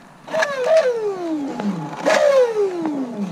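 A Traxxas X-Maxx 8S RC monster truck with its pinion gear come loose whines sharply as the motor spins up, then slides down in pitch, twice in a row, loud and close.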